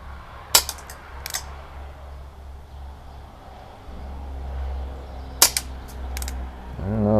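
An Umarex Colt Peacemaker CO2 air pistol fires four sharp, crisp cracks in two spaced pairs, with a steady low hum underneath and a small mechanical click near the end.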